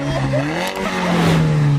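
A BMW E46 M3 CSL's S54 3.2-litre naturally aspirated straight six revving: loud, close engine tone that rises and falls in pitch over a couple of seconds.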